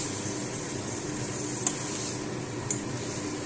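Fish frying in a pan while being stirred, a steady close sizzle broken by two sharp clicks of a utensil against the pan.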